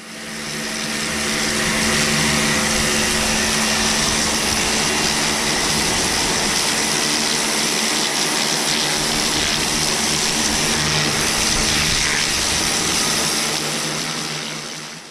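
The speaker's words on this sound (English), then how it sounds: "I'll get the jet wash onto it," A jet wash pressure washer blasts stones out with a loud, continuous engine-driven roar and hiss that holds steady throughout, with no talking.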